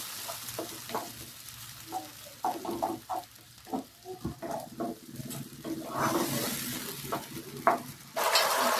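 Chopped tomatoes sautéed in a pan for a dry cauliflower-potato dish, a steady close sizzle broken by repeated scraping stirs of a spoon against the pan, with a louder burst of frying near the end.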